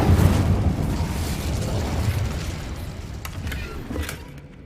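Incendio fire spell cast in Hogwarts Legacy, a loud rumbling burst of flame that starts strong, then roars and slowly fades over several seconds, with a few faint crackles toward the end and no voices.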